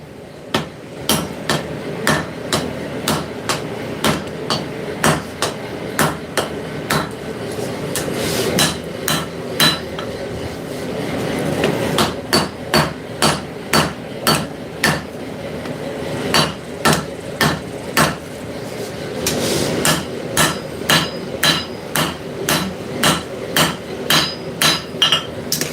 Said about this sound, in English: now whenever I forge in the bevels